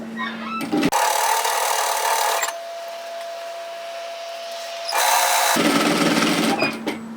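A regular sewing machine with a ball needle stitches knit fabric in two loud close bursts of motor whir, separated by a quieter stretch with a faint hum.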